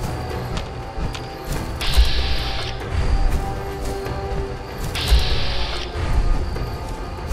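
Mechanical clanking, ratcheting and metallic clicks from a harpoon gun in Fallout 4's Far Harbor expansion, with periodic surges of a sustained whirring tone over dense, busy game noise.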